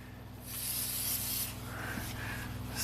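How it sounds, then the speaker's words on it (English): Faint hiss of DeoxIT contact cleaner spray on an electrical connector of a 1997 Ford F150, one sustained burst followed by a couple of shorter puffs, close and quiet over a low hum. "We'll just take a little deoxit spray"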